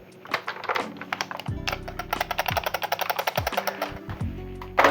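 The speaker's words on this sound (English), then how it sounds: "listen, that is the rear lens rattling" A rear lens rattles loosely inside a $20 Nerf sniper blaster as it is shaken, giving rapid plasticky clicking rattles in dense bursts, close and fairly loud, over a low electronic hum and no talking.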